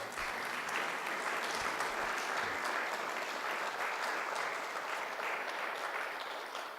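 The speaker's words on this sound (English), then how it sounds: "Al, please give him a warm round of applause for the work that he does." A crowd at a Vietnam War Veterans Day ceremony gives a sustained round of applause, even and moderately distant throughout, with no talking over it.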